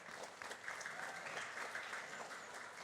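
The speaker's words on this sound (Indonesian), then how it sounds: "Tepuk tangan untuk beliau" Dense, even applause from a large crowd at a mosque commemoration event, sustained at a steady level throughout without letting up.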